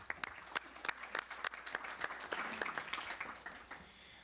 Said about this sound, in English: So I would like us to make him a great applaud